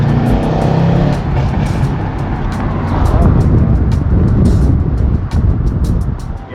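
Mercedes-AMG W205 C63 S fitted with downpipes, revving loudly up close with a deep roaring exhaust note, sharp crackles and popping burbles on the overrun.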